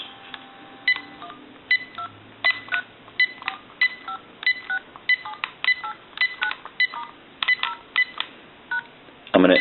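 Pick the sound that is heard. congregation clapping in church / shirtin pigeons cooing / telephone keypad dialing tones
telephone keypad dialing tones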